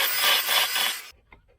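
A grinder working the edge of a welded metal body panel on a Jaguar XJ X300 being restored, a loud, close, rasping burst lasting about a second before cutting off to near silence.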